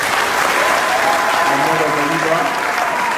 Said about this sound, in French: je vous demande d'applaudir les deux éminents membres de la MOCA